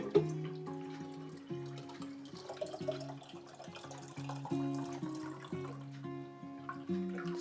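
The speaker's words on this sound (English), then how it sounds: "I'm going to top this off with the water." Water poured from a container to top off a pitcher of iced tea, a quiet, soft continuous splashing and trickling close by, with faint clinks and no talk.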